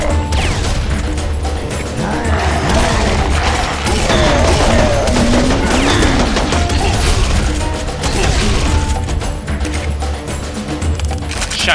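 Serious Sam 3 video game combat, loud and continuous, with repeated sharp shotgun blasts and mechanical clatter layered over dense gunfire and chaotic effects throughout.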